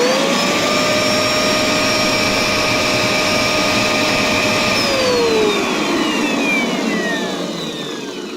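An upright vacuum cleaner runs loud and close with its brushes spinning, a steady motor whine that holds for several seconds and then dips slightly toward the end.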